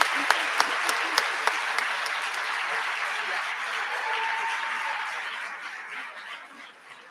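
Audience at an award ceremony clapping, dense sustained applause with a few sharp nearby claps at the start, gradually thinning and fading toward the end.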